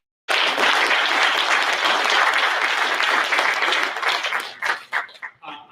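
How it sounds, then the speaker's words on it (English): Loud, dense applause from an audience at a social venture competition event, starting abruptly and sustained for several seconds before thinning into scattered claps near the end. "Can we give another round of applause to Chase and JP Morgan?"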